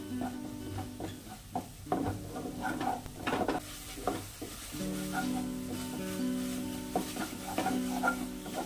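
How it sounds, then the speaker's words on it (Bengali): Thick jaggery batter stirred in a pan for pitha, with a utensil scraping and thudding in an irregular rhythm over a soft sizzle, close and moderately loud; a steady tonal hum runs underneath. "কন্টিনিউ এভাবে নেড়ে যেতে হবে, না হলে নিচে লেগে যেতে পারে।"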